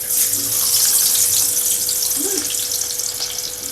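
Chopped onion sizzling in hot oil in a pan while cooking village chicken, a steady loud hiss of frying with no speech over it.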